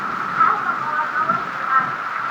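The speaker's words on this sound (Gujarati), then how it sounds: "આવડો વીજળીના કડાકા ભડાકા સાથે વરસાદ પડી રહ્યો છે" Steady rain pours down in a village during a windy storm, a dense, even rushing wash with no breaks and no distinct thunderclap standing out.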